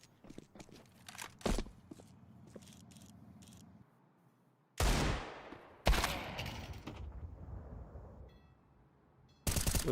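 Pistol gunfire in a Counter-Strike match, Glock and Desert Eagle handguns in play: a few loud, sharp shots with ringing tails and scattered clicks and clatter between them, no voices over the action.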